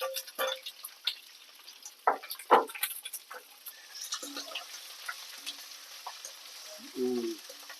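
Onion, green chili and ginger frying in a pan, heard as faint sizzling broken by scattered spoon clicks and scraping knocks, fairly quiet and intermittent.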